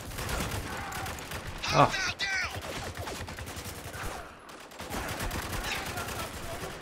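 Mounted turret machine gun fire in the war shooter Spec Ops: The Line, rapid sustained bursts rattling under a voice and battle chatter, with a brief lull before the firing resumes.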